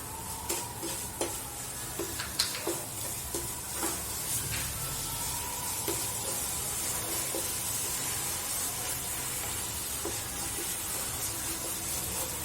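Grated carrot halwa with added sugar cooks in a pan, a soft steady sizzle under frequent scraping spoon strokes, fairly quiet and close, with no talk.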